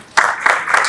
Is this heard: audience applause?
yes